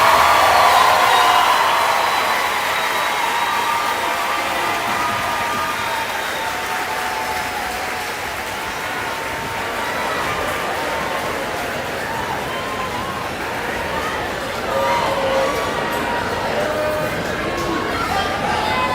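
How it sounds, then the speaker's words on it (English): A large crowd applauds at a high school commencement ceremony, steady broad clapping that fades slowly over the span, with cheering and chatter mixed in. "Please join me in a round of applause for the candidates and section leaders."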